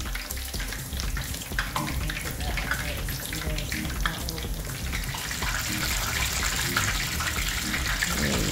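Cheeseburger donuts frying in a crowded pot of hot oil, a steady dense sizzle and bubbling that holds throughout, close up and fairly loud.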